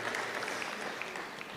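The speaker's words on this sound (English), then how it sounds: "Let's give him a really big round of applause" Workshop audience applause fills the whole moment, a dense, steady patter of many hands clapping at a fairly low level.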